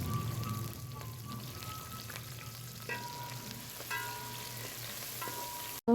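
Chopped onions sizzle and fry steadily in hot oil while being stirred, a continuous crackling hiss close by with occasional clinks, loud and alone with no talk.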